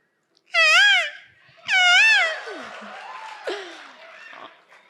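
A woman mimics a peacock's call with two loud, wavering, nasal wails in quick succession, followed by a softer trailing cry, close and unaccompanied.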